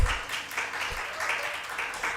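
A small audience claps through a dharma talk on the Vimalakirti Sutra, a steady patter of hands filling the room without pause.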